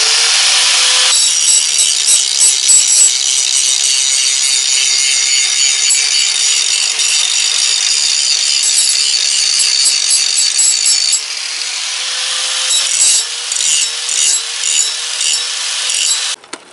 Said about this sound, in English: I'm going to take this back off and I'm going to grind some of that down